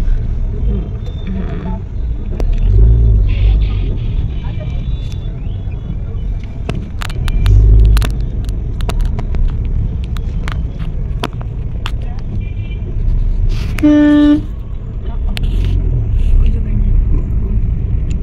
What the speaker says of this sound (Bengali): এটা কারটা পার্কিং করে এবার আমরা আগাচ্ছি